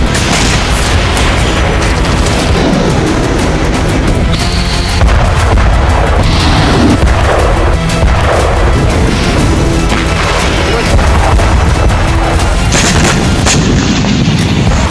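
Heavy artillery and rocket fire from a Russian assault on Kyiv, a loud, dense barrage of booms and blasts that carries on without a break.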